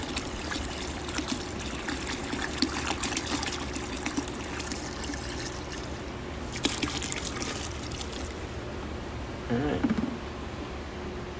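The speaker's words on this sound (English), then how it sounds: "So we just fill it up." Snap-on coolant refiller filling a vehicle's cooling system, a continuous watery trickle and gurgle with brief louder splashes, fairly close and without speech.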